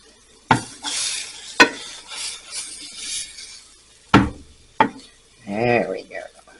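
French toast frying in butter in a pan, worked with a wooden spatula: several sharp knocks and scrapes of the spatula against the pan over a soft sizzle, with a brief burst of voice near the end.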